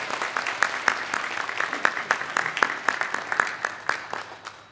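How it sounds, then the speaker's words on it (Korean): Church congregation applauding during a Sunday service, a steady patter of many hands clapping with sharp individual claps standing out, moderately close and continuous without talk. "우리 박수로 축하해 주시고"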